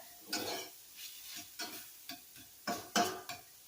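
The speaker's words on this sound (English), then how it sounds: "We're gonna throw the cilantro in there. Mix it up." A spoon scrapes and turns fish with fresh cilantro in a frying pan, giving about seven quiet, rhythmic strokes over a faint sizzle.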